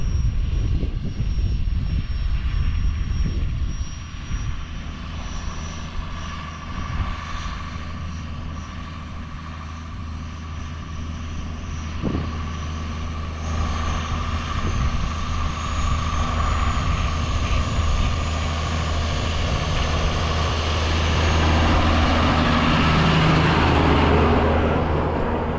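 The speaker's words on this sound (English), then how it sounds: "He's getting his tractor driving." A tractor engine pulling a roller over a paddock drones steadily, rumbling continuously with a low mechanical hum, swelling a little louder toward the end; no voices.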